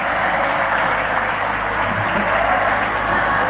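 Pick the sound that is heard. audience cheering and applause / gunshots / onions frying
audience cheering and applause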